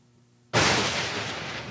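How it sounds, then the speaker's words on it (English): A sudden loud crack of thunder bursts in after near silence, then rolls on as a broad, sustained rumble. "And indeed it is our lightning."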